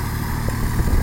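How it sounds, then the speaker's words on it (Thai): A Kubota L3408 tractor engine idles on a rice field being levelled, giving a steady, fairly quiet low mechanical hum with a faint throb and no speech. "รถไถคูเปต้าครับอันนี้ ไถปรับนา"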